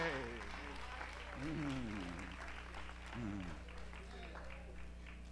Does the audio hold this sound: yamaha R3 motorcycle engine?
no